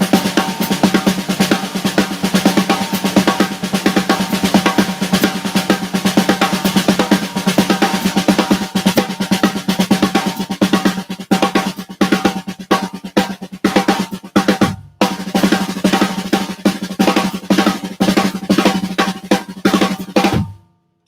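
Dense, continuous drumming on a kit runs close and loud for about twenty seconds with steady rapid strokes, a sticking-based paradiddle pattern, pausing briefly near the middle before carrying on and stopping abruptly at the end.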